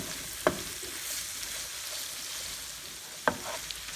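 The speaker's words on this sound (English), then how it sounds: "I'm going to go ahead and cook this up. Well, at least saute." Meat, onion and jalapeno sauteing in a pan, a constant soft sizzle broken by two sharp utensil knocks, one early and one near the end.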